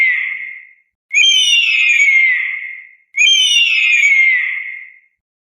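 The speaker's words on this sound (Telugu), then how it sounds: "ఈగల్ గ్రద్ద." An eagle gives loud, shrill, descending screaming calls, two full drawn-out cries of about a second and a half each after the fading tail of an earlier one, clear and alone with no talk.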